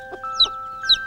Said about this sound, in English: Is that chirping from my brothers and sisters?